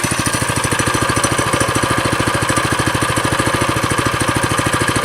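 A Trailmaster MB200x mini bike's small engine idles close by, a fast, even, loud chugging pulse with a steady mechanical rattle and no voices.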